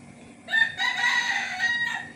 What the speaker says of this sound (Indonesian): diam lu ayam